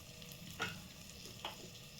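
A ground vegetable paste for matar paneer fries in oil in a pan with a soft, continuous sizzle, broken by two quick stirring scrapes.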